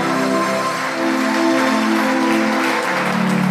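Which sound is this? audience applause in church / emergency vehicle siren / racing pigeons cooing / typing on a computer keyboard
audience applause in church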